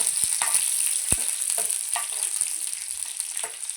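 Ingredients sautéing in a pan, a steady close sizzle with occasional sharp spoon taps and scrapes against the metal as the mixture is stirred.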